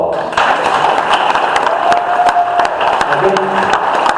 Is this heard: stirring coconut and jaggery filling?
no